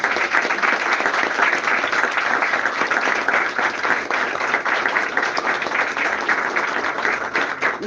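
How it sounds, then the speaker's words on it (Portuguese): Applause from a church congregation during a Portuguese-language service, a dense, steady wash of many hands clapping that fills the whole stretch at close, even loudness. "As palmas."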